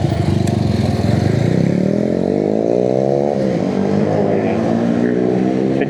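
Honda CB motorcycle with a low-mounted exhaust, its engine revving up and easing back in a steady, loud, close throb with a rounded, deep tone, no talk over it.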